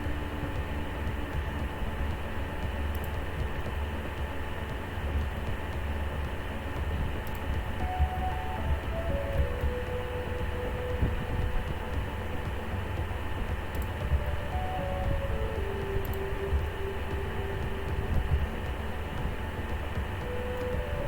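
Monorail train in the Cities: Skylines city-building game, a steady rumbling rail drone with faint tonal whine and shifting pitch, running continuously at moderate level with no talk.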